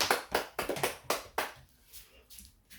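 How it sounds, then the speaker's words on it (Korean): A church congregation claps hands in praise, giving a burst of about six loud, sharp unison claps that quickly trail off into a few scattered, fainter claps in a reverberant room. "하나님께 영광의 박수 올리겠습니다"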